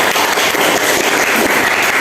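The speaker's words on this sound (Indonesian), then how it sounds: "Tepuk tangan untuk Paula ya." Classroom applause from students during a lesson, a loud, dense, continuous clatter of clapping hands filling the short clip.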